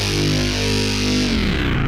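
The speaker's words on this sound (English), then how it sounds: "Playing this on a baritone guitar, which sounds a bit like this." Baritone guitar pushed through a Boss ME-8B distortion gives a deep, fuzzy, sludgy sustained chord that rings loud and continuous, then shifts to a lower, choppier texture near the end.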